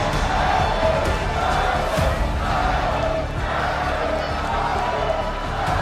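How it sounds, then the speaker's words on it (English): A large arena crowd at an esports match roars continuously, a dense, steady wash of cheering and shouting that stays loud and even throughout, with no single voice standing out. "the crowd are still cheering loud"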